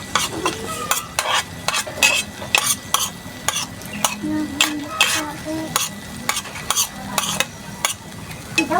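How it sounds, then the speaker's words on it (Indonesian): Flour-battered bricks deep-fry in hot oil with a soft steady sizzle, while a utensil repeatedly stirs and clinks against the pan in uneven scraping strokes, close by. "digoreng lagi, jadi nanti rasanya perfect."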